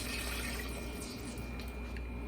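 Water poured from a cup into a cooking pan with oil while making variety rice: a soft, steady trickling wash, faint and close, holding even for a couple of seconds.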